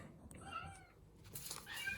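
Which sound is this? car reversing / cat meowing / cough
cat meowing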